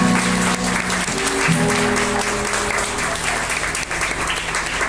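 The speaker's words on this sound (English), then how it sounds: "Please clap your hands for the fantastic band." An audience at a blues concert claps for the band, with loud, dense applause filling the room and low instrument tones humming underneath.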